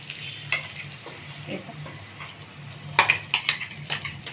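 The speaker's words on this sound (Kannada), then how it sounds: "ಅದಕ್ಕೆ ಸ್ವಲ್ಪ ನೀರು ಸೇರಿಸ್ಕೊಂಡು ಇದು ಫ್ರೈ ಹಾಕ್ಬಿಡೋಣ" Leftover masala for an oil-fried brinjal curry fries in a pan with a little water, a soft sizzle under scraping stirs and a run of sharp utensil clinks near the end.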